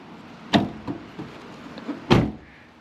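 A Honda Civic door handle is pushed back down and the door is shut: a sharp click, then a few soft knocks, then one loud, close door thump, with no voices.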